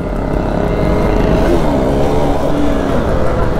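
A KTM Duke 390 motorcycle is held in a long wheelie on the road, its engine droning loud and steady at high revs with wind noise, up close and without pauses.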